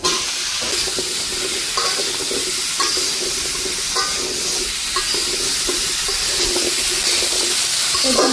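Sweet pumpkin is tipped into a pan of already fried prawns, giving a close, steady sizzle of frying with repeated scraping stirs of a spatula every second or so; no one talks.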